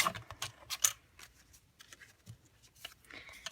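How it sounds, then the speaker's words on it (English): Paper strips for a Stampin' Up! card being trimmed to one inch, several short crisp snips and slicing strokes clustered near the start, then lighter scattered handling sounds, close and quiet. "I'm going to end up trimming these down to 1 inch."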